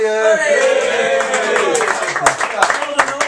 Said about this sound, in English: What about a round of applause for Alex, maybe?